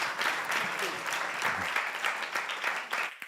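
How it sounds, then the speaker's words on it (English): Audience applause at an afternoon session of a technology forum, steady broadband clapping from a crowd filling the whole stretch, fairly even in loudness and easing slightly toward the end. "Could you please give them a warm round of applause?"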